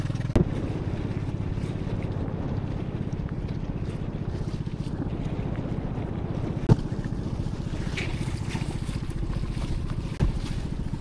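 A boat crossing open sea off Mindoro, heading toward Sitio Pinagbayanan in calm water, with a steady low engine drone and rushing water and wind noise throughout, plus a few brief knocks.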